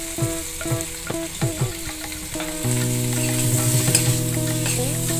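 Potatoes fry and roast in a pan, with a few loud scraping stirs at the start and then a continuous close, bright sizzle.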